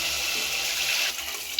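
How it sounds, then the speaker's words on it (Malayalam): Steady stream of water pouring into curry, a continuous bright splashing rush that ends abruptly; no talking. "അരച്ച് ആവശ്യമായിട്ടുള്ള വെള്ളം ഒഴിച്ച്"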